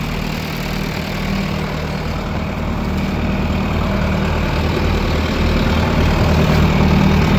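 A farm tractor with nearly 9,000 hours on it runs steadily at a barn while hauling manure, a loud, close, continuous low diesel drone that holds without pause.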